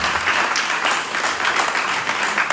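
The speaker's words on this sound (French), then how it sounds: "Acclame très très fort." A church congregation applauding loudly during a service: dense, steady clapping from many hands filling the whole stretch, close and sustained without a break.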